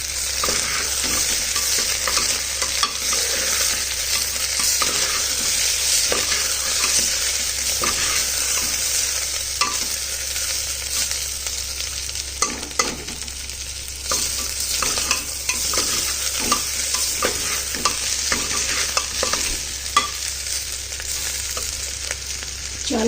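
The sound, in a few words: frying rice in a pan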